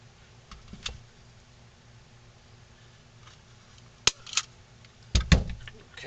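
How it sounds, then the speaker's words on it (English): Staples are driven into a handmade wooden ventriloquist dummy, giving a few sharp, close snaps, a single crisp one followed moments later by a tight double cluster, with light handling clicks in a quiet room. "Put a staple in back here."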